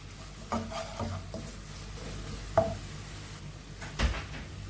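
Salted bilimbi tips into sizzling fried pickle masala and gets stirred, giving a low continuous sizzle with three or four sharp spoon scrapes and clunks against the pan, close and moderately loud.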